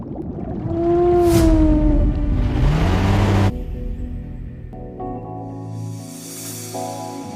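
A blue whale in an animated children's undersea cartoon gives long, gliding, moaning calls that rise and bend, loud and close, then fade into lower sustained tones with a faint shimmering wash behind.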